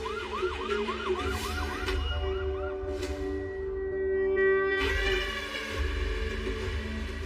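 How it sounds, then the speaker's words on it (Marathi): A wailing emergency siren plays from a TV serial in the room. It rises and falls continuously at moderate loudness, heard alone without talk. "सायरन की आवाज"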